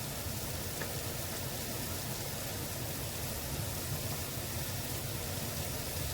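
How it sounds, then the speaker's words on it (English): Heavy rain pours down in a steady, dense hiss that stays even and unbroken from start to finish, with no voices. "Wow, it's really bucketing down now."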